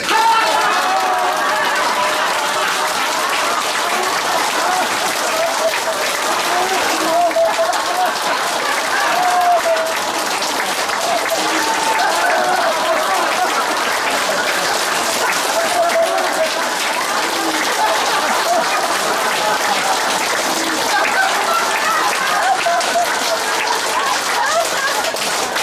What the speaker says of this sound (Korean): 박수 치면서 크게 온몸으로 15초 이상 준비 시작